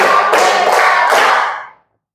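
A round of hand clapping on a count, a few quick overlapping claps that stop abruptly and leave silence.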